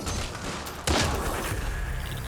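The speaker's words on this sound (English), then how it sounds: "Come on, throw my fucking grenade." A grenade explodes in the sci-fi shooter Mass Effect: Andromeda, a single sharp loud burst that cuts through ongoing combat noise and crackling gunfire, followed by a rumbling tail as the battle continues.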